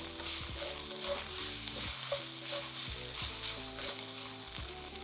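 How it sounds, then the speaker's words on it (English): Minced beef stir-fried in a wok and pushed around with a spatula gives a steady, close sizzle with occasional scraping, running continuously over a tonal musical background. "fry it for a further 5 minutes, moving everything around the wok with a spatula until it goes a little bit darker"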